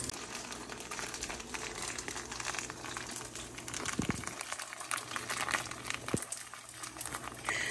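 Boba pearls boiling in a pot with brown sugar, a steady bubbling, crinkly patter that continues throughout, close with a couple of soft knocks.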